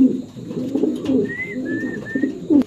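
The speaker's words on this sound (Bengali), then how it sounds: "একটা ব্ল্যাক ভেলভেট শিল্ড কবুতর" Black Velvet Shield pigeons cooing in a soft, low, throaty rhythm, repeated several times close by, with a brief thin whistle-like chirp in the middle.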